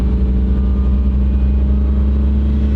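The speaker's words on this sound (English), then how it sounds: "Let's rev it up and see what happens." An old car engine revs up from idle during fuel adjustment, giving a loud, steady low rumble that holds throughout with no speech.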